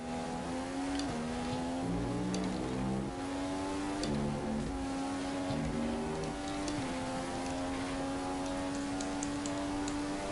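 Video-game race cars at Spa hold a steady, continuous engine drone with shifting pitch and overlapping motors, close and loud with no talk.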